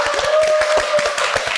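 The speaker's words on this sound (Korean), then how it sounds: "박수 한번 부탁드립니다" A studio audience at a televised real estate debate applauds in a steady, brisk patter of many hands, loud and close, with a thin sustained tone running underneath.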